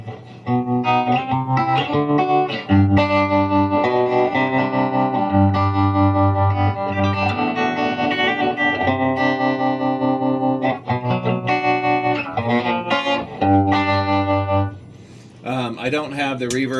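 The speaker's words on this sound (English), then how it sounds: "The tremolo works." An electric guitar plays sustained chords through a 1960s Gibson Falcon GA-19RVT amp with a pulsing tremolo wobble, fairly loud and distorted, ending with a few brighter notes.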